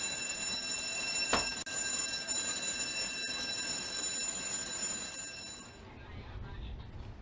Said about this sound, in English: I'll get you to close the door by pressing this red button here. There will be an alarm sound